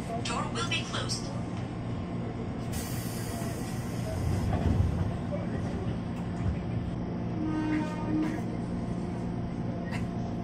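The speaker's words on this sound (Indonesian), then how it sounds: "KRL Komuter Lain tujuan stasiun Rangkas Bitung spesial malam tahun baru 2023" A KRL Commuter Line electric train runs on the Tanah Abang–Rangkasbitung line at night, its steady low rumble and rolling hum heard from inside the carriage, with brief higher squeals and clanks over the constant drone.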